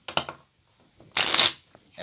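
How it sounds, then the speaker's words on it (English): A deck of playing cards is riffle shuffled, giving a close, sharp ripping flutter of cards lasting about half a second, with a couple of soft taps and handling sounds before it. "We'll give it another riffle shuffle just to be safe."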